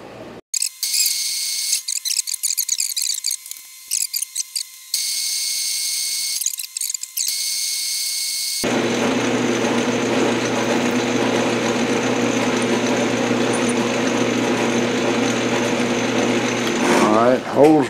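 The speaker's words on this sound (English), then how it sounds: "let's see what happens if we try to drill a hole in it" A hole is drilled in metal with a power drill, first in short high-pitched whining bursts, then in a long continuous grinding run that ends in a few clicks.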